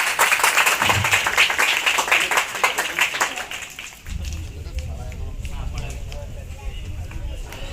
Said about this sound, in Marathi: ढग सुद्धा टाळ्या वाजवायला लागलाय जोरदार टाळ्या